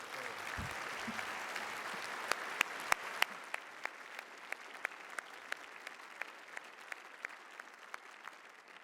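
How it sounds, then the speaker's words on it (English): Audience applause at an awards day ceremony, a broad steady wash of clapping from a crowd lasting several seconds, with a few sharper nearby claps and knocks standing out from the spread-out hall sound. "give them a round of applause"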